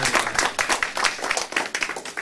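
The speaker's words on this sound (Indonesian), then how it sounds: "Sekali lagi saya berikan tepuk tangan buat Pak Arthur." A church audience claps for the pianist, a brisk, fairly close run of distinct hand claps in an uneven rhythm with no talk over it.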